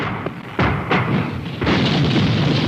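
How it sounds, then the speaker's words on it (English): Artillery bombardment pounding enemy positions, heard as a run of deep, heavy booms and thuds that roll into a continuous loud rumble, close and powerful, with no voices. "artillery is called in on the suspected and known enemy positions"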